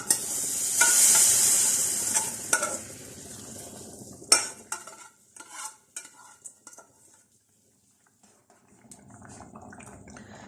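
Roasted semolina tipped into a pan of dry dates simmering on low heat for halwa, a sizzling rush followed by spoon scrapes and metal clinks against the pan that fade toward near quiet.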